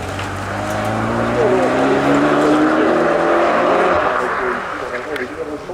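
Engine of a Peugeot 308 race car at a rally, first heat, a loud sustained drone with rising and shifting pitch as it passes, steady for several seconds then easing off, with faint voices mixed in.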